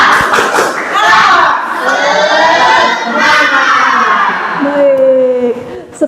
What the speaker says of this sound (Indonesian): sebelum kita akhiri, kita tepuk semangat dulu.